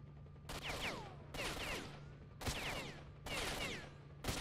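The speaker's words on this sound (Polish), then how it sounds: "Jeszcze nie, bo jeszcze strzały słyszę." Rapid bursts of gunfire in the video game S.T.A.L.K.E.R.: Shadow of Chernobyl crack in several volleys, separated by brief pauses, with a steady low hum underneath.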